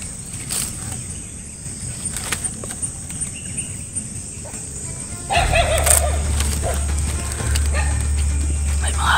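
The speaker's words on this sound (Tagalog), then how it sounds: "May mga aso din guys." Dogs barking outdoors in a rural spot, with a few scattered, fairly near barks over background ambience. A steady low hum joins in the second half.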